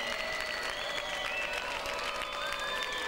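A large arena crowd at the 1992 European Rhythmic Gymnastics Championships makes a sustained wash of noise, with whistles and jeers in disapproval of a gymnast's score.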